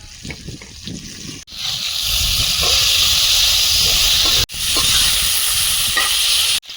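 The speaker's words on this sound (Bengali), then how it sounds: "আলুটা ভাজা হয়েছে এবার টমেটো দিয়ে আরেকটু ভেজে নেব" Potatoes and tomato frying in a pan give a steady, close hiss that sizzles loudly for several seconds, broken by two brief sharp cutoffs, with faint clatter underneath and no talking.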